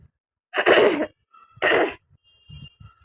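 A person recovering from fever coughs twice, two harsh, fairly loud bursts about a second apart, followed by a few faint throat sounds.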